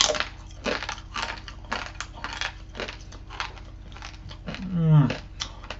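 Chicken crisps crunched close to the mouth give a steady run of loud, dry crunches roughly every half second, ending in a brief vocal sound.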